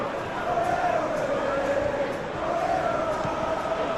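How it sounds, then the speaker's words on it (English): A stadium crowd in the football video game PES 2021, a steady roaring chant with sustained massed voices, loud and unbroken beneath a commentator's voice. "The crowd are calling for this to be put to bed."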